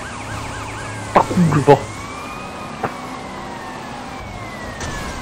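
A wailing fire truck siren in GTA Vice City Stories sweeps up and down in the background while someone shouts briefly and a few sharp game-like thuds punctuate the scene.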